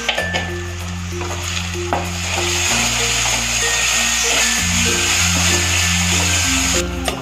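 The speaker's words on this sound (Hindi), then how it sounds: "देखिए मसाला हमारा भुन गया है" Homemade masala roasting in a pan for kofta sizzles loudly and steadily up close, with spoon clinks at the start and end over quiet background music.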